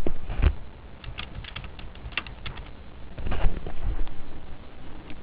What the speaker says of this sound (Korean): 주소만 그대로 타이핑해서 입력하시면 되겠습니다